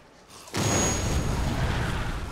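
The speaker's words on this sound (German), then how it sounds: "Also hier ist eine Schallimpulsgranate und da kommen Zombies." A sonic pulse grenade goes off among zombies in Dead Island, a sudden loud boom after a quiet lead-in, followed by a rumbling, decaying burst with a thin high ringing tone.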